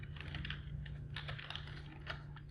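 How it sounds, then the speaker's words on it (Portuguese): Typing on a computer keyboard while working in an Excel spreadsheet, with a quick run of close, crisp key clicks in irregular bursts over a steady low hum and no voices. "Bom, pressiono Enter"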